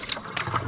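Cold tap water running into a bowl of sliced potatoes for homemade chips, a short splashing, trickling pour heard close and alone.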